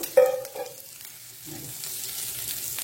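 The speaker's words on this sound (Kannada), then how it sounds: "ಈಗ ನೋಡಿ ಇದರ ಮೇಲಿನಿಂದ ಸ್ವಲ್ಪ ಸ್ವಲ್ಪ ಎಣ್ಣೆಯನ್ನು ಹಾಕೊಳ್ಳೋಣ" Masala-coated fish fries in a little oil in a pan at a riverside cooking spot. There is a soft, close sizzle with a brief stir or clatter at the start, then a quiet continuous frying hiss.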